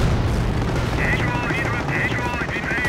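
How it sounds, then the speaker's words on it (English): Distant V1 flying bomb strikes in a World War II strategy game, heavy rumbling explosions and gunfire layered into a dense, continuous battle din with a high whistling tone recurring throughout. "More V1s coming down."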